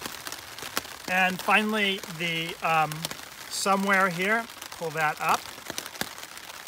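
Heavy rain patters steadily on a surface throughout, with someone talking over it in several bursts close by.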